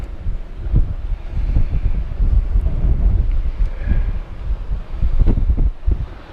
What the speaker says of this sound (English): And Louisbourg area, it's always windy.